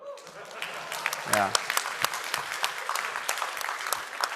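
Scattered audience clapping at a crypto expo in Asia, sparse individual claps popping at uneven intervals, fairly quiet and thin rather than a full ovation, with a brief voice in between.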